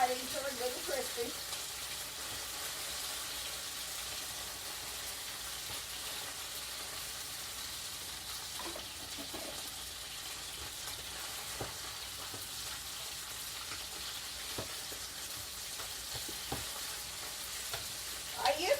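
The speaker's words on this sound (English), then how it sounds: "Just go ahead and fry these until they're good and crispy." Steady sizzling of chicken livers frying in a pan until crispy, with occasional stirring clicks, a constant bright crackle throughout.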